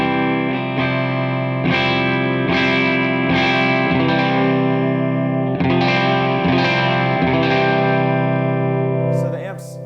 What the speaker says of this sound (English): First I'm just going to play the amp for you just without the Yeti on it at all